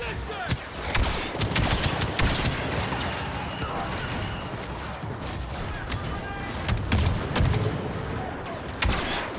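Bombs and blasters go off in a Star Wars Battlefront 2 battle, with dense overlapping bursts of gunfire and booms in a chaotic, continuous barrage.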